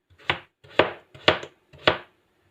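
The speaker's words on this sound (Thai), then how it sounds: "หั่นมันฝรั่งไปต้มนะ" Knife chopping potatoes on a board while making shepherd's pie, four evenly spaced crisp thuds about half a second apart, close and clear with no talk.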